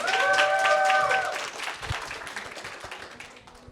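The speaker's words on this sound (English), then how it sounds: "Please give them another round of applause." A crowd claps for a team at a women's cybersecurity competition final, the applause strongest at first and thinning out into scattered claps, with a brief musical tone early on.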